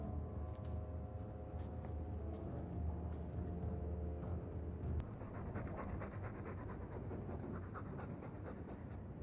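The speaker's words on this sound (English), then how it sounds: "All that noisy dog breath, day in, day out." A dog pants heavily and steadily in Dragon Age 2, the breaths close and continuous over a low hum, with a brief sharp click partway through.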